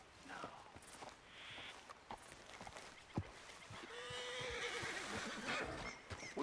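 A horse in the Red Dead Redemption 2 game world near the Canadian border snorts and gives a drawn-out whinny amid hoof clops and footsteps, faint and somewhat distant, with ambient outdoor noise.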